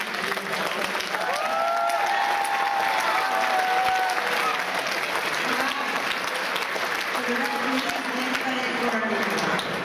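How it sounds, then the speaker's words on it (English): Sustained applause from an audience at a FIRST robotics district event opening ceremony in Waterbury, with a few voices and whistles rising over the steady clapping throughout. "let's give a round of applause to all of the judges that are here today"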